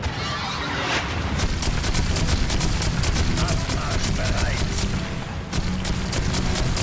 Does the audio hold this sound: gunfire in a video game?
yes